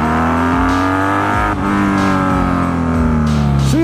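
Motorcycle fitted with drag pipes pulling away from a stop at full throttle, a loud, close exhaust climbing through a few quick gear changes with rising pitch, heard alone with no voices.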